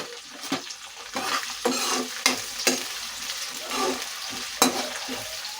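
Onions, curry leaves and green chillies stir-fried in a pan for an egg and brinjal dish: a continuous close sizzle broken by repeated scraping strokes of a spatula and a few sharp knocks against the pan.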